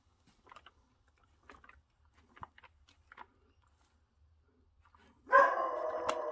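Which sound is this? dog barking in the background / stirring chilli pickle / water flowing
dog barking in the background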